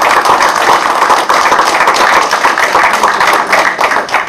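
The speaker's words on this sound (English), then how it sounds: "welcome, and we have a round of applause." A room full of people at a Rochester city council meeting gives a loud, sustained round of applause, with dense clapping close by and no talking.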